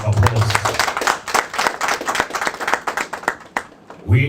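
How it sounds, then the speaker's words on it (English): Audience applause fills a hall in Rwanda at the first international concert act after lockdown, a dense, loud burst of many hands clapping, with a voice speaking briefly at the start and end. "A round of applause."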